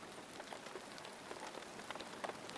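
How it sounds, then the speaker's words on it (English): Rain patters steadily on a thatched roof, a soft continuous wash of small scattered drops, quiet and even, with no voices. "The rain began as a soft whisper. It was a gentle tap-tap-tapping on the thatched roof."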